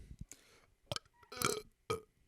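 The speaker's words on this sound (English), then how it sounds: "That's about all of my belch." Several short belches from a man, pushed out in separate bursts with gaps between them, the loudest near the middle; fairly close and alone with no talk.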